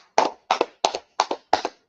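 A small group claps in a class setting, giving five sharp, evenly spaced double claps in a steady rhythm, loud and close, with silence between each pair.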